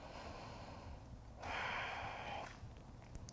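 A deep yoga inhale, a broad breathy rush rising about a third of the way in and lasting roughly a second, quiet and close against a faint room hush.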